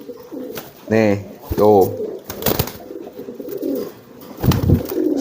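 A market pigeon gives a couple of close, throaty coos, and someone speaks briefly between and around the calls.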